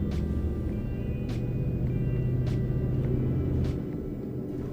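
Drawbar truck carrying about 9 tons, climbing a hill in eighth gear in manual mode, a deep steady engine rumble close by with a few faint clicks, no talk.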